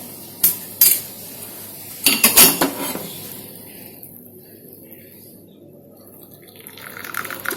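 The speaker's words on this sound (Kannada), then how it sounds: "ಈಗ ನಾವು ಇದನ್ನ ಒಂದು ಗ್ಲಾಸಲ್ಲಿ ಹಾಕೊಳ್ಳೋಣ" Ginger-lemon kashaya with salt, freshly boiled, is poured into a glass. Loud metallic clinks and clatters of the vessel come first, then a softer, fading trickle of liquid, close by.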